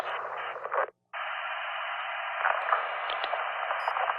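A military radio transmission comes in weak and static-filled, a steady hiss of white noise that cuts out briefly after a second and then resumes with faint crackles.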